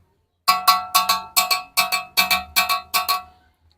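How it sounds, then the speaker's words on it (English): Ashanti Dauru, also called Tonton Sansan, a metal percussion instrument at the Nana Yaa Asantewaa shrine house struck with a stick: about thirteen bright clanking strikes in paired, steady rhythm, clear and close, no talking. "In Ashanti, we call this Dauru or Tonton Sansan."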